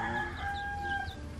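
A labuyo rooster, a red junglefowl kept as a pet on a farm, crows in drawn-out, quavering calls against steady low background noise, with no voices.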